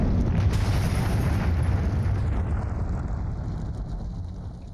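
A turret-fired missile explodes in a Modern Warfare video game, a loud, sustained booming roar with heavy low rumble that slowly tapers off.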